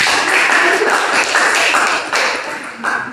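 Classroom applause for a student group's presentation, a steady wash of many hands clapping together for about three seconds, fairly loud and dense, with a brief dip near the end.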